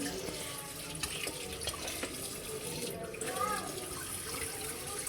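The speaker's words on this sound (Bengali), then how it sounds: "এই যে ঝর্ণার মতো এভাবে টান দিয়ে এভাবে ধোয়া যায়" A pull-out spray kitchen faucet runs water into a sink: a steady hiss and splash with a few knocks and clatters, close by, while a voice talks in the background.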